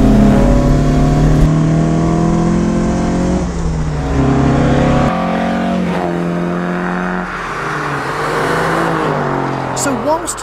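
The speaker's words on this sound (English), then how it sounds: "a carbureted engine like this has induction noise, true, pure, classic induction noise." A carbureted classic Alfa Romeo GTV on the move, its engine's induction noise loud and close, rising and falling through the revs as it pulls through gears, with a brief squeal of tyres near the end.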